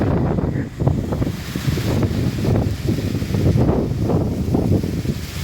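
Strong gusting wind outdoors at a small stadium on a very windy day, buffeting the microphone with a continuous loud low roar that surges and eases in waves, no speech.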